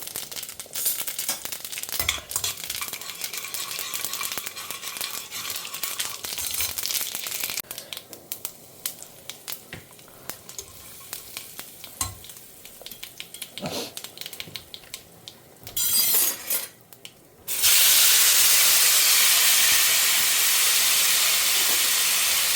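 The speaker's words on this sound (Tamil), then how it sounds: "கடுகு ஜீரகம் வெள்ளை உளுத்தம் பருப்பு கடலப்பருப்பு எல்லாமே கால் டீஸ்பூன் தான் இருக்கேன் ஜாஸ்தி எடுத்துக்கல இது அத்தனையும் போட்டு பொரிச்சிக்கலாம்" Mustard seeds, cumin, urad dal and chana dal fry in hot oil, a continuous close sizzle with crackling pops that swells to a loud, dense hiss near the end.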